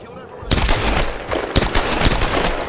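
Gunfire from a pistol in the 2013 Tomb Raider game bursts out in several loud, close shots over a busy combat backdrop, spaced irregularly across a few seconds.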